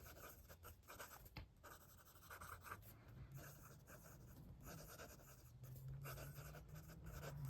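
Fountain pen with a smooth 1.1 mm stub nib writing on paper, a faint close scratching of short strokes and pauses, quiet and intimate with no speech.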